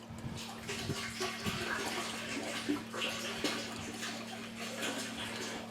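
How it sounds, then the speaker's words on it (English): Water flows steadily into the tank of an off-grid filtration system, a continuous close rushing and splashing with faint ticking under it. "take a look at the water going in"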